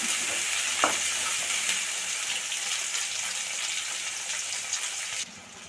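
Tomatoes sauté with lady's fingers in a hot pan, giving a loud, continuous sizzle with scraping stir strokes near the start. The sizzle drops off abruptly near the end.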